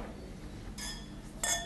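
Glasses clinking together in a toast at a historical festival in Cheb, with two short bright chimes, the second louder, heard close over steady background noise.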